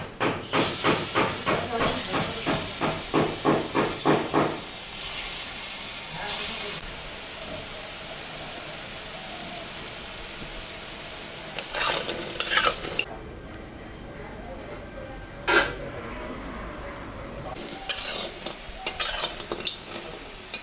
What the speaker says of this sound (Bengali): তেল গরম হয়ে গেছে এখন আমি বড়াটা ভাজে নিচ্ছি